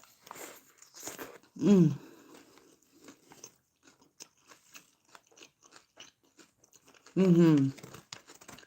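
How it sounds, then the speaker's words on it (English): Two loud, close crunching bites into a sandwich of tomato, lettuce and bacon, roughly five seconds apart, with softer chewing and a voice murmuring in approval between them. "I have tomato on here, lettuce, bacon."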